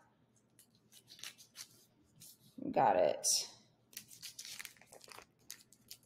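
Scissors cut through the plastic packaging on a pack of ground bison in a home kitchen, a loud, brief crunching snip burst that stands out over quieter rustling, with a person speaking before and after.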